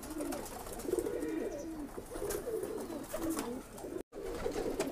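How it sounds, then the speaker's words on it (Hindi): A pair of Kalduma pigeons for sale in Bhopal coo repeatedly at close range, low burbling calls rolling on and off with a momentary dropout near the end. "ये 7वां पेयर कल्दुमे कबूतरों का"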